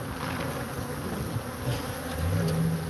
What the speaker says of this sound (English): They're Africanized honeybees, which means they're deadly.